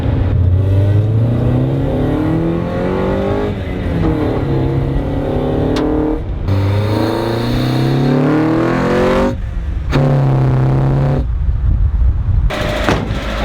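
Rally-prepped Mazda Miata engine revving through an intake snorkel, loud repeated throttle blips rising and falling with popping crackle, close and unbroken for over ten seconds.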